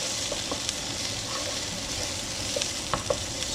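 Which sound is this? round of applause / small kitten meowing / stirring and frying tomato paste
stirring and frying tomato paste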